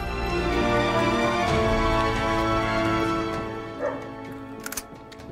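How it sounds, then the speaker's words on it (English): Dogs barking and whimpering in the Uncharted 3 video game, a few yelps set against a steady layered game soundtrack that fades slightly near the end. "Dogs."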